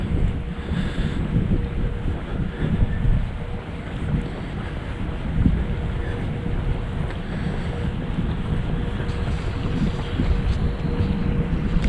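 Steady, loud wind buffets the microphone on a partly snowy winter hiking trail, a continuous roaring rush with slight gusts and no pauses, and no one speaking.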